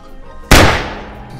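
A single sharp gunshot bursts out loud and close, then rings off in a decaying tail, with faint background sound before it.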